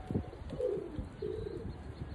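Soft cooing calls from a black şeşka dolapçı pigeon, a few low murmuring coos in short phrases, close and alone with no talk.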